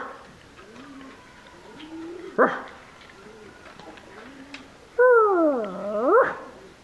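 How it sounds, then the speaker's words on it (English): Dogs bark outdoors: a sharp single bark, then a longer rising-and-falling yelping bark a few seconds later, with faint birdsong and quiet ambience in between. "Both of them barking."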